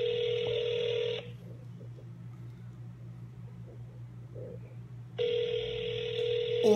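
A troubled telephone line sounds a steady electronic ring tone, falls silent for about four seconds leaving only a low hum and faint background noise, then the tone returns.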